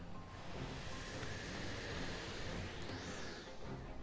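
Steady broadband wind gusting in the video game Mario + Rabbids Sparks of Hope, a continuous loud rushing whoosh with a faint rising tone partway through, with no talking.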